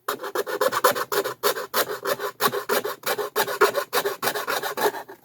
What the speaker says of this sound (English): I get a file to be able to get into the edges and trim up the rest